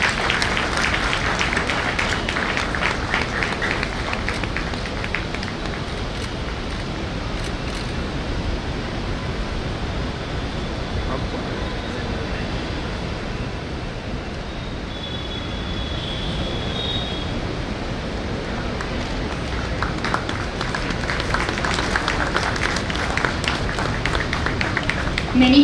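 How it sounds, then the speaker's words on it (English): A crowd at a bar association award ceremony for judges applauds in a steady, dense wash of clapping that holds for over twenty seconds, swelling slightly toward the end. "Let's give them a loud round of applause"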